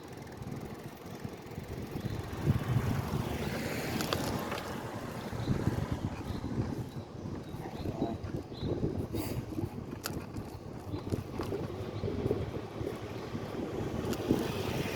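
Wind picks up on Fort Myers Beach, a rough, gusting rush that buffets the microphone. It rises and falls in uneven swells and stays steady and fairly soft throughout.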